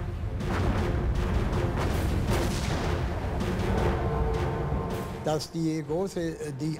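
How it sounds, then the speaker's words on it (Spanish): Heavy rolling booms and rumble from the naval guns of the battleships Hood and Bismarck firing at each other in 1941, loud and sustained, with a narrating voice emerging at the end. "el Hood y el Bismarck abrían fuego uno contra otro"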